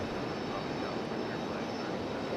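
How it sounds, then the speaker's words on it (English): JetBlue airliner arriving at Raleigh-Durham International Airport, a steady broadband jet engine rumble heard from the ground, continuous and fairly loud. "We're going to stick with JetBlue since we do have another arrival."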